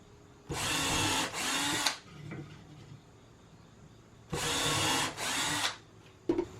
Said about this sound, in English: I'm going to pre-drill 3 holes into this support piece.